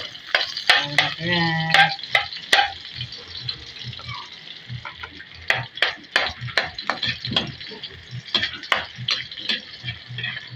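Garlic sizzles in a hot pan with scraping stir strokes and clinking utensil taps in an irregular rhythm, close and moderately loud, with a brief spoken word near the start.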